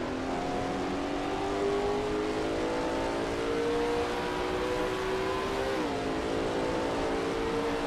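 A Lola T70 MkII Spyder race car in a racing game at Watkins Glen, its engine droning loud and steady as the pitch climbs gradually through a gear, then dips briefly at a shift and rises again.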